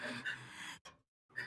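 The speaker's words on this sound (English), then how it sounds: "Sorry, that heavy breathing was mine," A person breathes heavily, with a couple of loud gasping breaths close to the mic, broken by short silent gaps.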